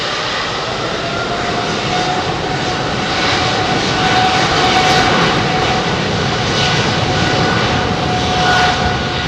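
A jet airliner takes off from runway 27R at London Heathrow, its engines roaring loud and continuous at takeoff thrust and swelling slightly as it passes.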